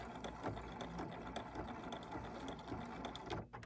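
A sewing machine back stitches slowly over a thick stack of fabric layers on a quick zip case, its steady rapid needle chatter running continuously and close up before a brief pause near the end.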